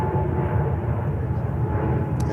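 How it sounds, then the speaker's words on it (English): A British Airways Boeing 787-9 Dreamliner at JFK airport, a steady low jet rumble heard at a distance, continuous and moderately loud throughout the short stretch. "BA with 787-9 Dreamliner."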